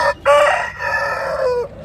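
An Aseel rooster crows loudly and close by at a Vijayawada poultry market, a long harmonic call with a short opening note, then a sustained wavering cry that fades at the end.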